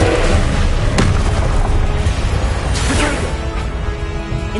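Confringo explosive spell blast in the video game Hogwarts Legacy: a loud, dense rumbling boom that sustains with crackling bursts, filling the whole clip.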